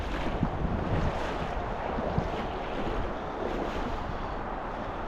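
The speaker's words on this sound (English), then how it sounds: "It is a little bit breezy on this evening." Breezy evening wind gusts across the microphone beside the Provo River during tenkara fishing, a steady broadband rush with soft swells and no voices.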